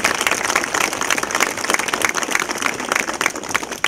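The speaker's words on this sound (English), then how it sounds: "one more round of applause for everybody here that works at the BioPark" Audience at a city news conference at a zoo park applauds, dense steady clapping filling the whole stretch at moderate loudness with no talk over it.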